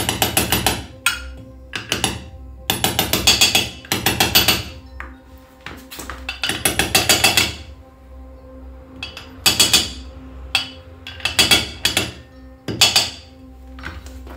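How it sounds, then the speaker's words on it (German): Bursts of rapid metallic hammer taps driving a shaft seal into a hot MZ ES 250/2 motorcycle housing come in quick clusters with short pauses, close and sharp, with a faint ringing tone. "Hier klopfe ich den Wellendichtring in das Gehäuse rein."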